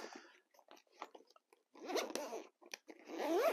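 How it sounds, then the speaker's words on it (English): Zipper being drawn closed around a Tiger carry case, heard up close as a series of short ratcheting pulls broken by pauses, ending in a longer, louder final stroke. "Zips up nice and easy,"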